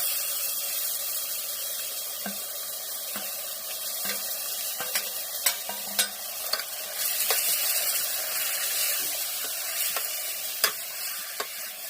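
Mutton coated with turmeric, asafoetida and salt fries in oil over a wood-fired chulha. A bright hissing sizzle runs throughout, broken by scattered clicks and scrapes of stirring, close, with no talking.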